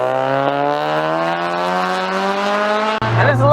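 A K20-swapped 1996 Honda Civic EK hatchback race car revs hard and loud, its engine note climbing steadily for three seconds before a sharp cut and a rougher, burbling restart.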